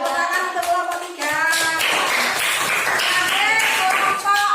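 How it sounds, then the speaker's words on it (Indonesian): In a classroom, a teacher's voice briefly speaks, then a group of students clap for group 3, a loud, dense, sustained patter of many hands that lasts several seconds. "Beri tepuk tangan untuk kelompok 3."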